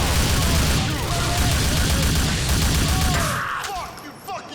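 Dense bursts of gunfire from a GTA Vice City Nextgen Edition shootout roar loudly for a few seconds, overlapping shots and blasts under shouting game voices, then cut off and fade near the end.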